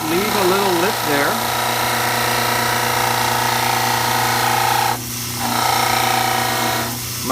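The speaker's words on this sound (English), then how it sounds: "These diamond discs are very effective, so you don't have to use a lot of pressure to trim things." A diamond disc on a dental lathe trims an alginate preliminary dental cast, giving a steady, loud grinding whine with brief dips as the cast is lifted away, while a person talks over it at the start.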